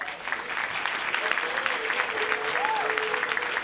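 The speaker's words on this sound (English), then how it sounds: "please give Isivile a round of applause" An audience at a primary school jazz band concert claps steadily in a sustained round of applause, with a faint voice and a brief tone over it.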